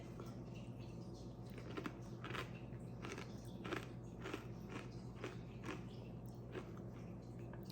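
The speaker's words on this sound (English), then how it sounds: "the granola has a really nice crunch to it, and it has an apple flavor" Crunchy apple granola with vanilla yogurt is eaten up close, with a steady run of crisp biting and chewing crunches repeating every second or so against a constant low background hum.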